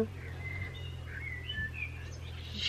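A small bird chirps in a garden, faint high tweets scattered over a low steady background hum, fairly distant and unaccompanied by voices.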